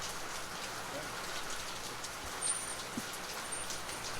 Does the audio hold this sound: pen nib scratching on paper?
no